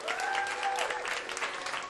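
Gala audience at The Bowery Hotel in New York breaks into applause, a brief burst of dense, lively clapping from a dinner crowd, with faint voices underneath.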